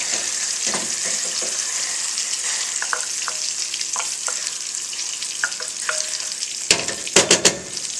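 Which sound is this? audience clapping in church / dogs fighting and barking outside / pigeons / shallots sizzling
shallots sizzling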